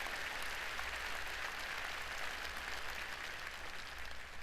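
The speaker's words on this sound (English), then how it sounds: "please give a big round of applause for the performers" Audience applause for the performers at a Korean War armistice 70th anniversary ceremony, a broad steady wash of clapping heard at a distance over a low hum, with no talking.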